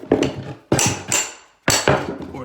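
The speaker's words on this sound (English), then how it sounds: "if I use this and just chisel my way in deep enough" Sharp hammer blows drive a chisel under laminate flooring: three loud, separated impacts, each followed by ringing, woody rattle that decays, close and with no talk.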